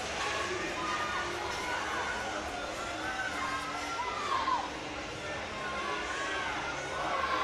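A crowd cheers steadily and loudly for the powerlifter Ellison at the 2023 USA Powerlifting Youth Nationals, a continuous wash of shouts and voices filling the venue.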